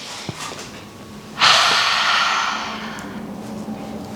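A single deep, loud breath drawn in through the nose during a kids' yoga session, close and sustained for a couple of seconds, then easing off into quiet.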